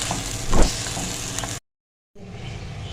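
Potato slices and masala frying in oil over a medium flame for achari aloo katli, a steady close sizzle that cuts out briefly to silence, then resumes.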